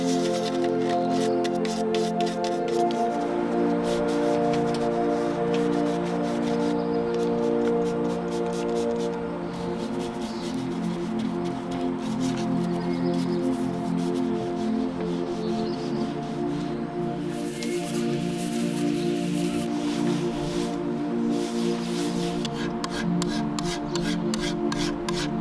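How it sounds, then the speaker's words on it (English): Antique furniture gets a steady scrubbing with shop rags, steel wool and brushes, a continuous rasping rub under a droning hum of machinery, with a brief break midway and no talking. "proceeded to scrub the detailed areas with shop rags, steel wool,"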